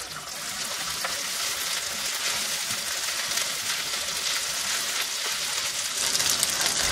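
Onions and ginger-garlic paste frying in a pan, a dense, steady, loud sizzle that holds evenly throughout, up close with no talk.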